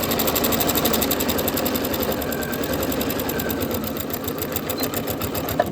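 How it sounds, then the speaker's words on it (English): Sewing machine stitching binding onto a fabric table runner, running in a continuous fast, even mechanical whir with rapid needle rhythm from close by, with no talk over it. "And now we'll just stitch all the way down."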